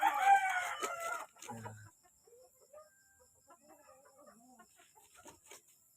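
Yellow-legged Hatch broodcock rooster crows loudly and close at the start, followed by quieter clucks and soft fowl calls trailing off in the background.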